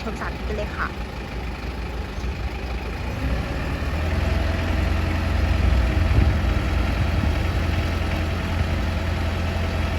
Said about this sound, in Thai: เครื่องยนต์ดีเซล